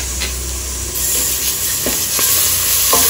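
Ginger garlic paste fries in a pan with ground onion for a biryani, making a loud, continuous close sizzle with a few soft stirring scrapes.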